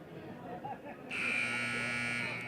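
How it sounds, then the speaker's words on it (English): A loud, steady electronic buzzer at a high school boys' basketball game blares suddenly after quiet background murmur and holds for over a second. "Buzzer sounds."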